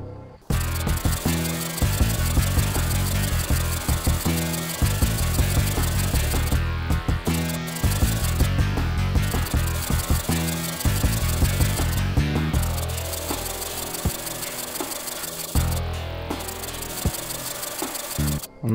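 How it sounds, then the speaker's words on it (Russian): Firewood is sawn into planks in the survival video game Project Zomboid, a loud, steady rasping saw stroke repeating in long runs with brief pauses between batches. "Сейчас пильнем, короче, все эти дровишки."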